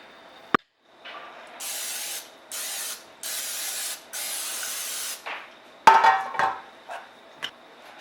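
Short bursts of cooking spray hiss into a loaf pan while zucchini bread is prepared, about five separate sprays in quick succession, followed by a few clattering knocks of the can and pan.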